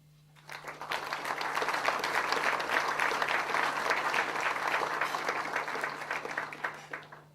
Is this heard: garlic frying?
no